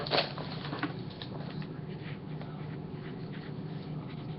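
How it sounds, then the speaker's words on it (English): A pen scratches across paper in quiet, short, faint strokes, close by with no talking. "So let's write this down."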